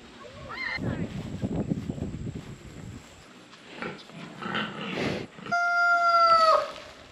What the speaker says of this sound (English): help Dan and Allie process their chickens